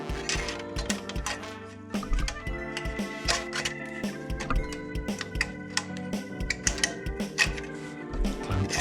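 Clamp being fitted on an Arrow Pro Race titanium exhaust for a 2019 GSXR1000R, with close metallic clicks, ratcheting ticks and small rattling clinks coming in quick irregular bursts.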